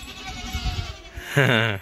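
A goat bleats once near the end, loud and close, following low rustling and indistinct background sounds in a tribal village setting with livestock.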